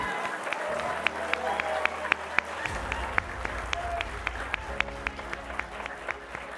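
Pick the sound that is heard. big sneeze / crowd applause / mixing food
crowd applause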